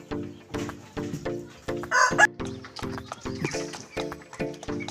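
Heritage chickens of mixed bloodlines on a Philippine poultry farm, with a rooster crowing loudly mid-clip over steady repeated clucking from nearby hens, no talk.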